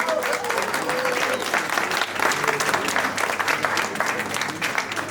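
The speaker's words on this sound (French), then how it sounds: "J'aimerais qu'on les applaudisse bien fort s'il vous plaît." An audience at a student talent contest in Reims applauds loudly and steadily, a thick wash of clapping with crowd noise and a few faint voices underneath throughout.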